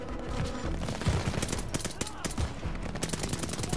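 In a Call of Duty: Vanguard campaign battle, rapid automatic gunfire and dense overlapping shots rattle continuously, loud and close, while a voice speaks over the din.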